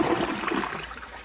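American Standard Townsend Vormax toilet flushing during a performance test, a loud close rush of water through the bowl that starts strong and tapers slightly over a second.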